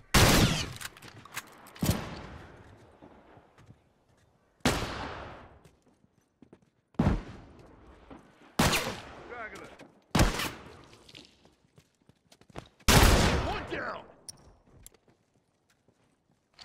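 Rifle shots in The Last of Us, loud sharp cracks with echoing tails spaced a second or two apart, several in sequence with fainter sounds between them.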